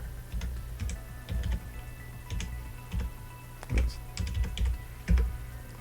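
Keys tapped on a computer keyboard in short clustered bursts, entering an IP address in the hacking game Hacknet, close and clear with brief pauses between groups of strokes.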